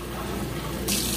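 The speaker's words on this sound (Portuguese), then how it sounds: "Aí é só colocar um pouquinho de água, né?" Tap water pours into cassava flour during home cooking, a steady close rush of running water that grows brighter and louder near the end.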